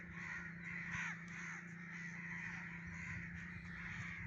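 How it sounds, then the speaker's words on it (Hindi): Crows caw repeatedly in the early morning over village fields in rural Punjab, Pakistan, their harsh calls fairly faint and distant over a low steady background hum. "देख रहे हैं जी, कौवे गुजर रहे हैं सुबह सुबह"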